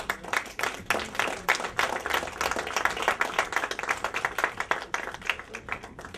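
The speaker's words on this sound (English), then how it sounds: "Give the Lord a hand clap of praise." A church congregation claps hands together in a dense, sustained burst of applause, steady and fairly close, with faint voices mixed in.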